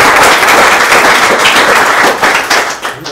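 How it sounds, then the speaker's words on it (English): Audience applause at a fireside chat event, dense steady clapping from a crowd that holds loud for about three seconds before thinning slightly at the end. "So let's give him a round of applause."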